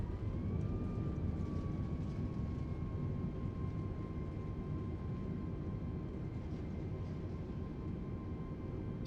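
Simulated airliner thrust reversers roaring during a landing rollout in Microsoft Flight Simulator 2020 at Key West International Airport, a steady loud broadband engine rumble with a faint whine holding throughout.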